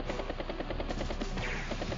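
Rapid rotor thumping and gunfire from a battlecopter attack in Advance Wars: Days of Ruin, a loud, steady chopping rhythm with rattling shots throughout.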